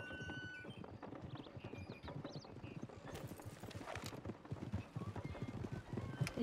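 Video game horse hooves clip-clop in a quick, steady rhythm in a 1920s-set Red Dead roleplay, with a horse's whinny and faint voices mixed in the background.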